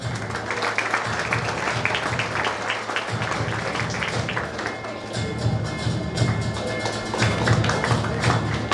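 An audience at an engineering college felicitation for Paris Gaikwad claps in sustained applause that swells toward the end, with a crowd murmur and light voices underneath.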